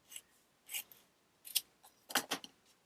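Scissors snip through wide washi tape, cutting it to size with several short, crisp cuts in a quiet room. Two close snips come near the end.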